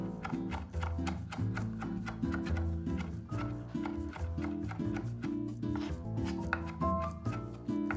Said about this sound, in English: finely chop 1 tablespoon of parsley